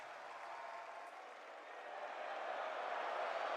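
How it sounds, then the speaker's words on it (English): Crowd cheering and applauding at a CS2 esports match: a dense, steady roar of many voices and claps that holds throughout and swells slightly toward the end. "First cheer I've heard for Apex all week"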